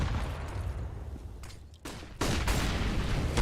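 Gunfire in a Counter-Strike esports match, a dense clatter of overlapping shots and bursts that builds louder toward the end with no pause.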